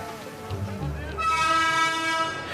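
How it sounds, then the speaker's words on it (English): A historical steam locomotive train sounds at Colombo railway station in Sri Lanka. A low rumble gives way to a loud, sustained multi-tone whistle or horn that holds steadily for over a second. "The historical steam locomotive-driven train is a favourite with locals and visitors alike."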